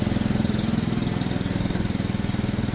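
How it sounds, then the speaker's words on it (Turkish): A boat motor runs at a steady, throbbing chug while towing another boat, loud and close, with no talking. "öyle tahmin ediyorum ki motoru çalıştırdı"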